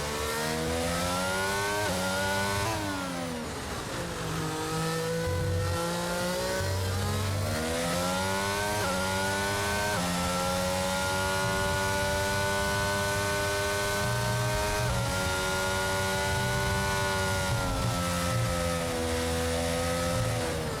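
A Formula 1 car in the F1 22 racing game on a qualifying lap, its engine a loud, steady high-pitched whine that rises and drops with gear changes and throttle for the whole stretch, with no talking.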